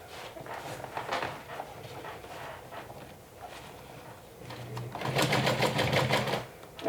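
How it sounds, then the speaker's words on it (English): A sewing machine stitches through a zipper in short bursts of rapid mechanical whirring, with quieter handling sounds between runs and a louder, sustained burst near the end, close by with no talking. "You will be sewing through the zipper"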